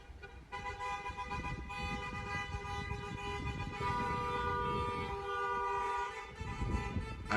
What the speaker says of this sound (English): they start honking like crazy because it's wedding time